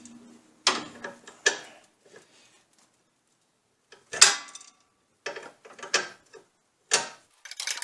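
A ratchet wrench loosening the upper control arm nut on a Jeep Cherokee XJ during a front axle swap, short bursts of clicking separated by pauses, close and fairly quiet.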